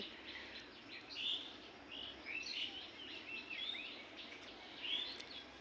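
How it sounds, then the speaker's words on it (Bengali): Several short, high bird chirps ring out at intervals over a soft, steady outdoor hush in a rooftop garden, fairly distant and unaccompanied by voices. "আর পাখির ডাক শোনাবো"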